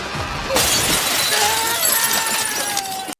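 Glass shatters loudly at once, followed by a long spray of shards tinkling and skittering down, close and alone.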